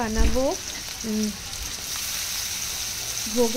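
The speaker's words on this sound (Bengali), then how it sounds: "বানাচ্ছি লুচি, আলু ভাজা, সুজি আর লাড্ডু" Luchi and potatoes frying in hot oil for a Ganapati puja offering, a steady close sizzle running the whole time, broken by a few short bursts of a voice.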